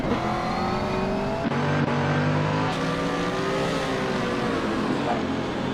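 A Porsche race car in a racing video game, running close behind another car: loud engine revving with climbing and dropping pitch through gear changes, a couple of brief shifts or bumps, steady and near.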